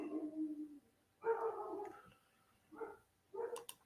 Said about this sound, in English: This dog will bark and howl about anything.